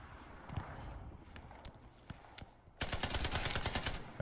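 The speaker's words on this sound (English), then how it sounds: "You can probably hear somebody just fired at him twice" Gunshots fired at a soldier during infantry training, heard as scattered sharp cracks that give way to a louder, dense burst of rapid reports near the end.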